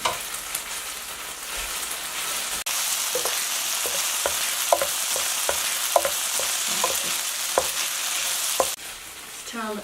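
Green onion stir-fried for fried chicken dumplings: a loud, continuous sizzle and hiss with repeated sharp clicks of a spatula against the pan, close up and with no talk.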